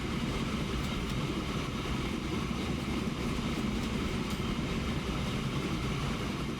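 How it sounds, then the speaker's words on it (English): Train pulling into a station in the Transport Fever simulation game, a steady, moderately quiet rumble and hiss that stays even throughout with no voices. "Alright, here comes our train into..."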